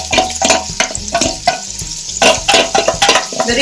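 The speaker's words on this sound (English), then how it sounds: "Now add the drained basmati rice. Just saute it for 2 minutes." Drained basmati rice being sautéed in a pan for green peas pulao, loud close scraping and stirring strokes in an uneven rhythm over a light sizzle, with occasional clinks of utensil on metal.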